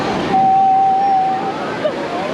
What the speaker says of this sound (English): we're here on the beach and the water's coming in